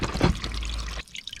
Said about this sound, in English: Once the liquid is drained out